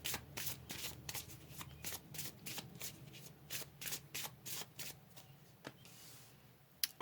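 Tarot cards are shuffled by hand in a long run of quick riffling, flapping bursts, close and fairly soft, ending in a few sharper snaps as cards are drawn.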